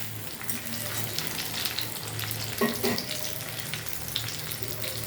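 A paste of tomato, fried onion, ginger and garlic goes into a hot pan for egg curry, producing a steady soft sizzle with brief stirring clatter.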